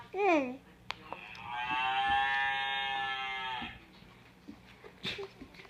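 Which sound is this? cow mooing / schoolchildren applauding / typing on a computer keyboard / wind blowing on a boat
cow mooing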